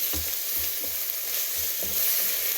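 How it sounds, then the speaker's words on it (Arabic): Garlic and onion fry in oil in a pan, giving a steady, close sizzle throughout while a spoon stirs with a soft, regular scraping rhythm. "راني حطيت الثوم كيما راكم تشوفوا، نخلطه ونخليه يتقلى مليح مع البصل"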